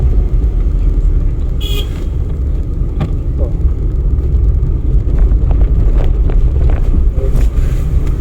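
A car accelerating lightly during a driving lesson, its engine rumbling steadily and close under wind noise from the microphone for the whole stretch, with no talk.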